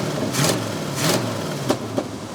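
A Buick Wildcat V8 idles with a steady low rumble and is blipped twice in short revs, followed by a couple of quick sharp clicks, close and loud.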